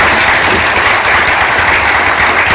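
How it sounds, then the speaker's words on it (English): Loud, dense applause from a forum audience after a panel discussion, a continuous roar of clapping close at hand with no speech over it. "please give them a big round of applause"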